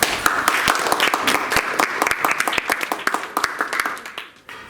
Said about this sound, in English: And our last contestant from first A class, a great applause for Victor Peñalver.